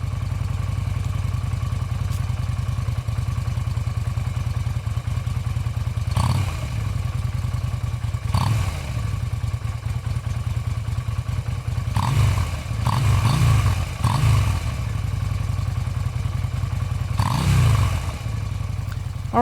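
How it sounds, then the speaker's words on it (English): A 2014 Yamaha V Star 250 motorcycle engine idles steadily with a low rumbling exhaust, punctuated by several short revving bursts throughout. "let me start up the bike for you so you can listen to the exhaust"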